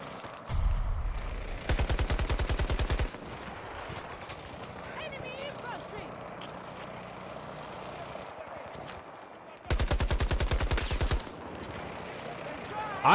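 Rapid bursts of AK-24 assault rifle fire in the shooter Battlefield 2042, two loud strings of evenly spaced shots with talking and game noise carrying on between them.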